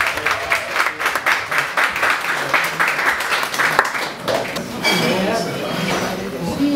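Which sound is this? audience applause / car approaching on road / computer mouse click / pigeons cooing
audience applause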